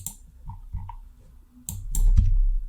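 A handful of quick computer keyboard keystrokes, clicking close and clear in short bursts after a quiet stretch, with a low hum underneath.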